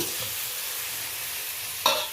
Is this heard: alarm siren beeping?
no